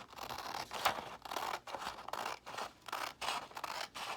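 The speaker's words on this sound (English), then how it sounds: "So just cut really carefully on the lines." Scissors cut along lines on paper book pages, each snip and slide coming close and crisp in a steady rhythm of about a dozen cuts.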